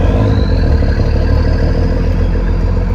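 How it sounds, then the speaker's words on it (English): A first-generation Cummins diesel with a 6-inch stack exhaust runs steadily and loudly, its low exhaust rumble mixed with a mechanical injection clatter, with no voices. "It sounds very similar to the P-pump, but there's the injection, like the mechanics of the injection and the exhaust sound."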